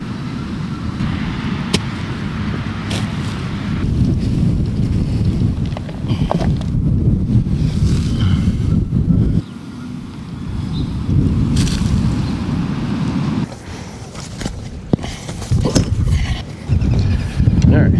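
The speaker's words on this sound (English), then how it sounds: "It's a super windy day." Gusty wind buffets the microphone in loud bursts that rise and drop, with occasional knocks and thumps in between.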